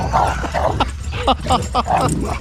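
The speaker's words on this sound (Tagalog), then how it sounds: "mga aso" Several short, sharp dog barks and yips close by, irregularly spaced, with some excited voices mixed in.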